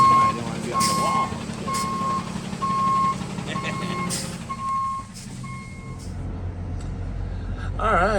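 A truck's reversing alarm beeps steadily in a regular repeating rhythm, loud and close, over engine rumble and background noise, with a brief voice and a hiss toward the end.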